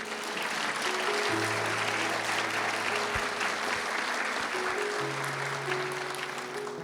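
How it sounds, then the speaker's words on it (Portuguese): A large audience at a Catholic spiritual gathering applauds themselves in a continuous, full round of clapping, with steady hum-like tones sounding beneath the crowd. "Uma salva de palmas para vocês mesmos"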